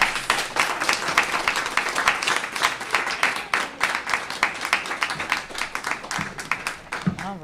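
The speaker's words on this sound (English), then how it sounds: "another round of applause" An audience at an honors research symposium presentation session applauds, dense, loud clapping that carries on steadily throughout and eases toward the end, with a voice briefly heard at the close.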